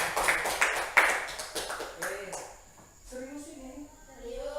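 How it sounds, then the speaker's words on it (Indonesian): A classroom of students claps hands in a short burst of sharp, scattered claps up close, fading out as voices begin talking and someone speaks afterward. "Tepuk tangan dulu dong."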